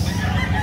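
A rooster crows at a chicken market in Carbon, Cebu, one loud, close, sustained call that fills the brief moment.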